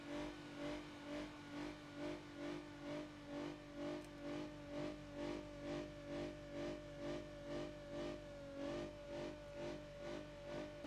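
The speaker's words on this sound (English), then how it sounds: "it's bouncing off the rev limiter with no oil in it" The engine of a Lincoln Town Car with 300,000 miles, run with no oil in the BeamNG Drive video game, bounces off the rev limiter in a rhythmic pulsing drone, loud and steady, with no talking.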